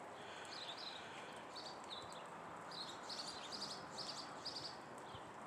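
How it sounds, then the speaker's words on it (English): Sparrows chirp outdoors in winter in short, repeated high bursts, a busy chattering that is fairly faint and distant over a steady background hiss. "Well, the sparrows are really jabbering away."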